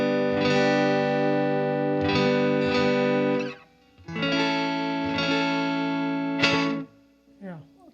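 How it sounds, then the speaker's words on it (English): Electric guitar chords through a JHS Flight Delay slapback pedal ring out with a short, doubling echo that thickens each strum, played in two phrases with a brief pause between them. "a slapback delay can really fatten up your tone and get you a lot more out of it"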